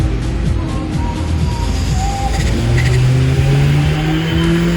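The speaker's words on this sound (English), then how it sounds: "Oh, they're doing dyno pulls too." A car engine revs hard on a dyno at an Arizona import car show, the tone climbing steadily through a loud, sustained pull with crowd noise around it.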